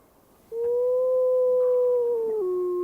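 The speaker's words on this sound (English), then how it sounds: "Big Gray howls for the pack." A single gray wolf in Yellowstone gives one long, clear howl after a quiet start, holding a steady pitch before dropping to a lower note near the end, loud and close.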